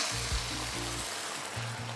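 Loud, steady sizzling and crackling of white wine hitting a hot pan of mushrooms, fills the clip, with a low rumbling hum underneath.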